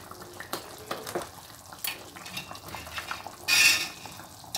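A ladle stirs crab curry with brinjal pieces in a pot, giving soft scraping and clinking strokes scattered across a few seconds, with one louder, brighter scrape near the end, and no voices.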